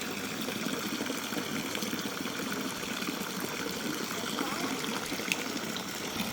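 Water flows steadily into a Balinese infinity pool at a villa in Ubud, making a continuous even gush that stays close and constant with no pauses.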